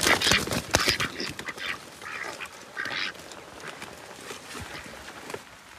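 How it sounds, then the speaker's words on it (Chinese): Ducks quacking outdoors on a rainy day at a farm where ducks and geese are kept, several harsh nasal calls overlapping loudly at first, then thinning out over a steady wet background hiss. "下雨天抓鸭子"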